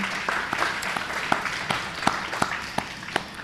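Audience applause following a talk at a public-policy forum, a steady wash of many hands clapping at moderate distance, with a few sharper individual claps standing out.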